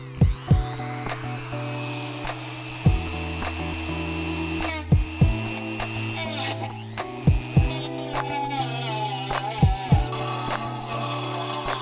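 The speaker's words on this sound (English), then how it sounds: "I'm going to use this Dremel to do a little cut somewhere this side as well as underneath there" A Dremel rotary tool cutting a brake part on a BMW 228i during a big brake kit install, with a steady high whine in repeated bursts, separated by sharp clicks and brief pauses.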